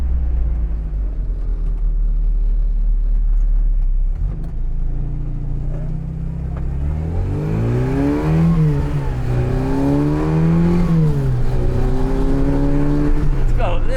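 A Mark I Mini Cooper, carburetted, drives with its engine droning loud and close, then climbs through several rising revs as it accelerates and shifts, its tone swooping up and down steadily throughout.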